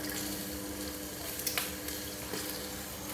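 Food sautéing in Lurpak butter in a pan for halaan clam soup, a steady close sizzle with a few soft stirring clicks.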